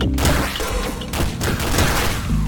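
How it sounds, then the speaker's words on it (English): Rapid bursts of shotgun fire from the video game Downwell, dense and loud, with repeated blasts packed closely together across the whole stretch. "Yeah, I got the shotgun."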